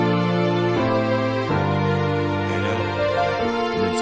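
A harsh string voice played on a keyboard for worship, a bright, buzzy sustained chord that shifts through several changes, loud and continuous with no talking.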